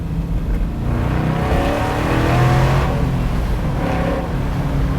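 An LS3-powered Chevy Nova's engine accelerates hard, its roar rising in pitch over a few seconds, loud and close, with no talking.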